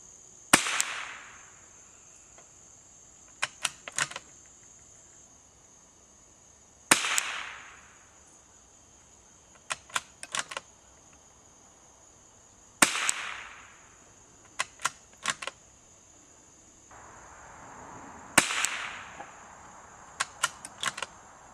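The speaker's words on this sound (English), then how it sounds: "next I'm going to shoot 5 shots out of this Remington 581 at the target right below it" A Remington 581 .22 rimfire rifle fires sharp, loud cracks spaced several seconds apart outdoors, each followed by a quick cluster of metallic clicks from the action.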